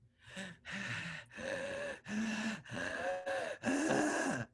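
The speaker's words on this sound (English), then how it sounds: "Heavy breathing." A person performs exaggerated heavy breathing up close: about seven loud, rhythmic, voiced gasping breaths separated by short pauses, each with a groan-like tone.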